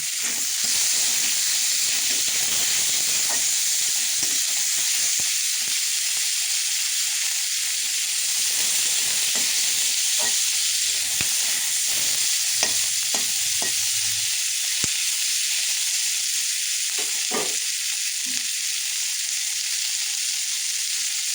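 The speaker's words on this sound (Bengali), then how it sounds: "পেঁয়াজটা ভালো করে ভেজে নিয়ে দেবো" Onions sizzle and fry steadily in a hot pan, a continuous bright hiss with occasional crackles and soft stirring scrapes, close and without talk.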